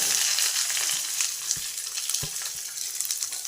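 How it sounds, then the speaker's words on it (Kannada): Onions frying in oil in a home pan after mustard seeds and cumin, a steady bright sizzle throughout with a few soft stirring knocks, close and alone with no talk. "ಬ್ರೌನ್ ಕಲರ್ ಬರೋವರೆಗೂ ಚೆನ್ನಾಗಿ ಫ್ರೈ ಮಾಡಿ"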